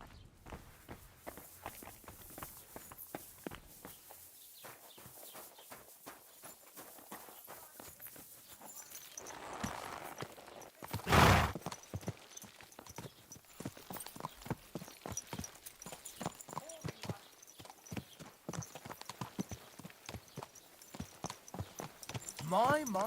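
Horse hooves clip-clop at a steady walking rhythm in the medieval world of Kingdom Come: Deliverance 2, moderately close and continuous, with a brief louder burst midway and a voice speaking over the hoofbeats.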